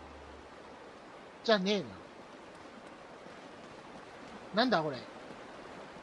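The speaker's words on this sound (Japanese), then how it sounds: "滝だ。" A waterfall in the video game Uncharted: Drake's Fortune gives a faint, steady rushing hiss throughout, broken twice by a man's short spoken remarks.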